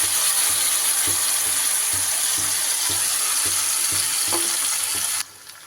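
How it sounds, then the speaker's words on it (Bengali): Blended spice paste hits hot oil with nigella seeds in a pan for an eggplant dish, giving a loud steady hiss with rhythmic spatula scrapes before cutting off sharply. "এইবার যে মশলাটা পেস্ট করলাম সেই মশলাটা দিয়ে দেবো"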